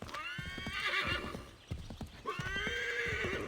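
A horse in Assassin's Creed III whinnies loudly twice, with brisk clip-clop hoofbeats running underneath throughout.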